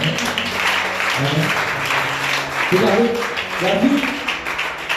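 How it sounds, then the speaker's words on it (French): A French-speaking church congregation applauds during a sermon, a moderate bed of clapping running throughout while voices call out and speak over it in short bursts. "Est-ce qu'on peut applaudir pour le moment?"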